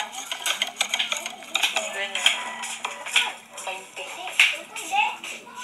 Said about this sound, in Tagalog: Just add cooking oil and mix all together